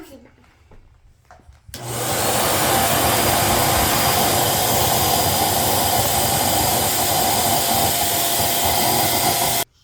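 After a quiet start, an electric air pump kicks on loudly to inflate a Little Tikes Hoop It Up play center. It keeps up a steady, rushing roar close by until it cuts off at the end.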